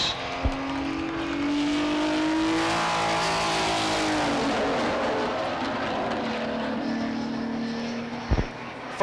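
Buick stock race car engine from Plum Potter Automotive High Torque Racing Engines on a Beech Ridge Motor Speedway qualifying lap: a loud, sustained engine roar that swells and then pulls away as the car passes, with a brief clunk near the end.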